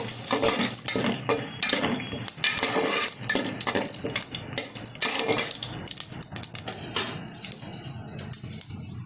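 Whole spices, bay leaf, dried chillies, garam masala and cumin, fry in hot oil in a cooking pot for chicken curry, a busy sizzle broken by repeated metal spoon scrapes and clanks against the pot, close and continuous.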